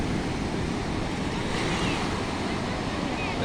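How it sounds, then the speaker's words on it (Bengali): Sea waves break on Cox's Bazar beach at night in a continuous, loud roar of surf, with wind rushing across the microphone and no pauses in the wash. "সমুদ্রের গর্জনটুকু শুনে, সমুদ্রের গর্জন শুনলেই মন ভালো হয়ে যায়"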